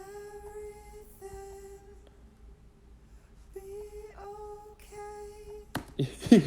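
Recorded backing vocal harmonies, soft sustained sung tones in a few separate phrases with gaps between them, quiet and alone, ending in a brief louder burst.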